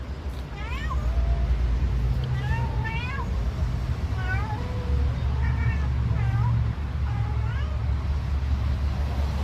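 A mother cat meows repeatedly in a rising, chatty series of about five calls, close and clear over a constant low rumble of traffic or engine noise.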